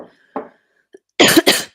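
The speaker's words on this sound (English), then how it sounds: "I'm going to have a little cough" Cough from a man at a live conference stream: a short throat noise, a brief pause, then two loud, close, rasping coughs in quick succession.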